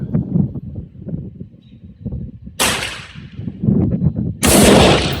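M16A1-pattern rifle built from a parts kit, fired outdoors at a 100-yard range: two sharp, loud gunshots a couple of seconds apart, each with a trailing echo, over wind noise and handling rumble.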